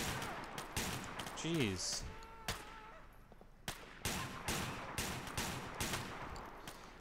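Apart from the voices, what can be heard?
gunfire in the video game GTA IV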